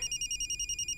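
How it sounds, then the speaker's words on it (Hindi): A telephone rings in a steady pulsing pattern of rapid bell-like tones, close and loud, with no voices over it. "ससुर जी का फोन है।"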